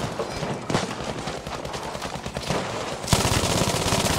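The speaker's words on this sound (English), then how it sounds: "Shooting and scooting, shooting and scooting." Medium machine gun fire in Battlefield V on PlayStation 5: a loud, sustained stream of rapid shots with a steady rattling rhythm, briefly broken around three seconds and then resuming even harder.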